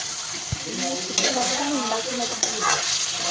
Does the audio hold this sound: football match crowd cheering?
no